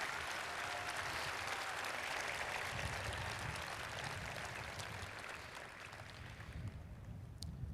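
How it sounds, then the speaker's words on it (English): Sustained audience applause fills a high school graduation ceremony for the Penfield, NY Class of 2021, steady dense clapping that tapers slightly toward the end. "Let's give these students another round of applause for making Penfield very proud."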